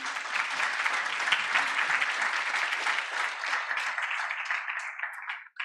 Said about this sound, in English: can we just give a quick round of applause to our sound people over here